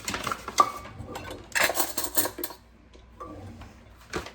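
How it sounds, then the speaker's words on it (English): Soft scraping and tapping of a spoon scooping all-purpose flour and dropping it into a container over the flour bag in a tiny kitchen, a few quiet clinks and rustles with pauses between them. "I have to spoon my flour in because I don't want it to get compacted"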